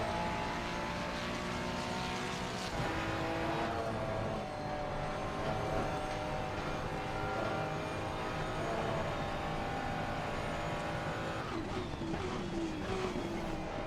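A steady, dense Aston Martin race car engine drone in Assetto Corsa Competizione at Brands Hatch or Silverstone, at moderate level, a sustained roar with subtle pitch shifts and no voices.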